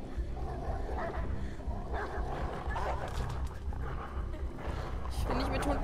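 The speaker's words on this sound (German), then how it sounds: "Wie werde ich diesen Hund los?" Dogs growl, snarl and yelp in a fight scene from the video game Beyond: Two Souls, harsh and continuous, with a voice talking over the scuffle.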